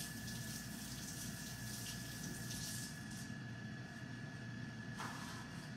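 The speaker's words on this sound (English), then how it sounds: "Let me wash my eggs because they are farm fresh eggs." Water runs steadily from a tap while farm fresh eggs are washed, a faint, constant splashing flow with a slight change in tone partway through.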